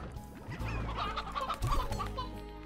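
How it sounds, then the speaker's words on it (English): Hens cluck in the Slime Rancher video game, with a cluster of close, overlapping clucks over a low ambient hum. "More hens."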